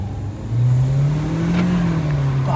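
A car accelerates hard during a 0 to 100 test, its engine droning and climbing steadily in pitch from inside the cabin, loud and continuous without talk.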